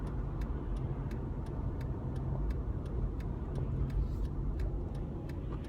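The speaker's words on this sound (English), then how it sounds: "I'm signalling left." Steady, evenly spaced clicks of a car's left turn signal indicator in rush hour traffic, faint and regular over a low engine and road hum inside the cabin.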